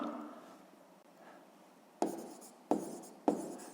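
Pen writing on paper during a sixth-grade maths exercise: soft continuous scratching, then three sharper, louder strokes, close and quiet, with no voice.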